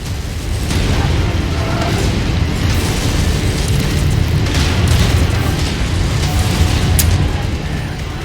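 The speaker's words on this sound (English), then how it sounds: "Incoming missile." Missile explosions and heavy combat in the MechWarrior 5: Mercenaries mech game, a sustained loud roar of booms and rumbling blasts with scattered sharp bursts, continuous and close throughout.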